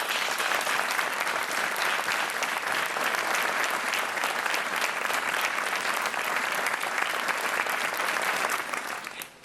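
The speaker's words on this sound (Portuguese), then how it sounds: "um aplauso para o David" A TV game show studio audience applauds, a dense, loud, sustained clapping that stays even throughout before cutting off at the end.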